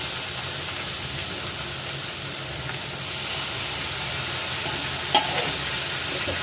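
Chopped tomatoes frying in a pan for peanut chutney, giving a steady, close sizzle that holds throughout with a brief stir-like knock near the end.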